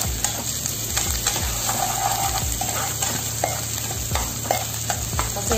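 Ginger sizzling and frying in an old wok while being stirred for pork ribs Bicol Express, with a steady close hiss and repeated scraping strokes of the utensil against the pan.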